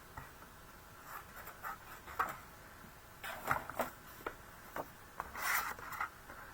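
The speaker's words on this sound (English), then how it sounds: "I will just trim a little bit of that off as well" Paper being trimmed for a handmade stamped card, quiet scratchy slicing strokes and light taps in irregular bursts, close and soft with no talk.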